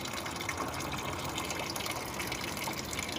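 Water gushing steadily while the water in a turtle tank is changed at night, a continuous close hiss of filling or pouring liquid with no pauses.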